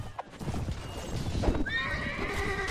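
Horse in the video game Mount & Blade Warband neighing, a rising whinny near the end following clip-clop hoofbeats and battle din.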